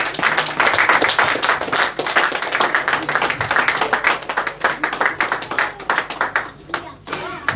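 A church congregation at a worship service claps hard and fast in a steady rhythmic beat, praising the Lord as the prophet approaches, with voices faintly mixed in beneath the applause.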